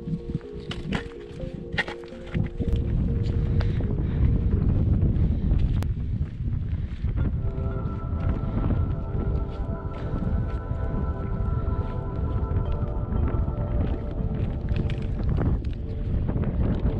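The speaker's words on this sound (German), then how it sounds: "ziemlich windig" Strong gusting wind buffets the microphone on an exposed firn ridge in the Alps, a loud continuous roar broken by crunching footsteps and a faint steady tone.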